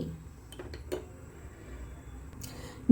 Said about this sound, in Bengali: সবার প্রথমে একটা কড়াই গরম করে ওর মধ্যে দিয়ে দেব 1 চামচ মতো ঘি।